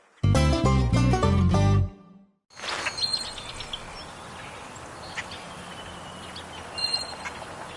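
A duck call played in the Duck Dynasty video game gives a loud burst of harmonic quacking notes for about two seconds, then cuts out. Quieter outdoor ambience with faint chirps follows.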